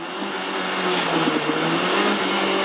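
Renault Twingo R1 rally car on a special stage heard from inside, its engine revving hard and steadily at high pitch, loud and continuous with a slight lift in revs partway through.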